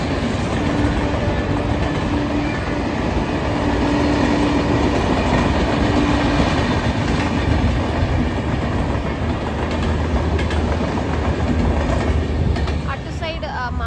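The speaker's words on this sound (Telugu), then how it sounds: "చూడండి ట్రైన్ ఎలా వెళ్తుందో పైన." A train rumbles continuously overhead in an urban setting above a vegetable market, with a steady, loud rolling of rail wagons and faint clickety-clack throughout.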